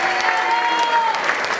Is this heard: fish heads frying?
no